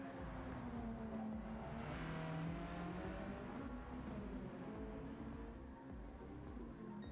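A GR3 race car in Gran Turismo 7 slides through corners on the Nordschleife during an endurance race, its engine droning loud and steady with shifting pitch and tyre scrub throughout, with no talk over it.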